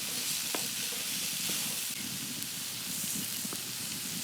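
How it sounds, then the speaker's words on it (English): Rice being stirred and toasted with vegetables in a paella pan over a grill, a soft steady sizzle with occasional scraping clicks, quiet and close. "pour the rice right in with the vegetables. This is about 2 cups of rice, and this will coat the rice and kind of toast it a little bit"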